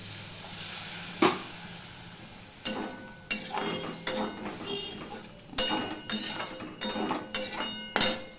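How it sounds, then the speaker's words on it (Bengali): Gobindobhog rice is being stirred with potatoes in a pan. A spoon scrapes and clinks against the pan in a rhythmic series of strokes over a soft sizzle, and one sharp knock comes early on. "গোবিন্দভোগ চালটা দিয়ে আমি একটুখানি মিশিয়ে নেব ভালো করে আলুর সাথে"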